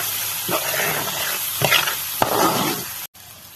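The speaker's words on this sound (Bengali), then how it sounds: "এবার আমি এটাকে কষিয়ে নেব" Chicken pieces coated in chilli powder, coriander powder and mixed cumin and pepper sautéing in a pan, with a steady broad sizzle and a few sharp scraping stirs near the mic before a brief cut.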